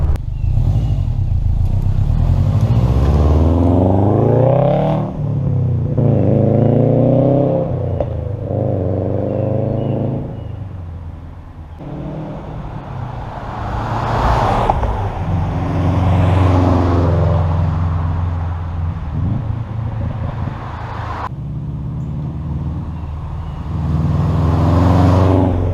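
A car fitted with an upgraded aftermarket exhaust makes several loud drive-bys, engine note swelling, revving and fading away in repeated passes with a deep rumbling tone.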